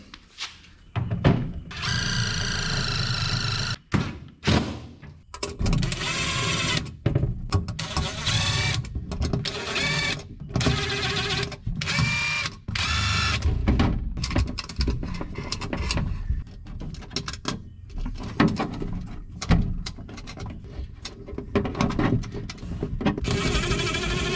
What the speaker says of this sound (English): Them old sheetrock screws, you push hard enough, they'll just go right through that sheet metal and tighten down everything.